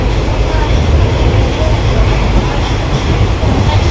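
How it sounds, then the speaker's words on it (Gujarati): Steady, loud rumble of a moving passenger train heard from inside the carriage, a continuous low roar with broadband rattle and no distinct voices. "તો અમે હવે ટ્રેનમાં બેસી ગયા છીએ"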